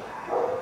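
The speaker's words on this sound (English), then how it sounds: "Damn, those dogs are going nuts." Dogs barking somewhere off at a distance, a short muffled burst of yelps rising and fading within a moment, with no speech over it.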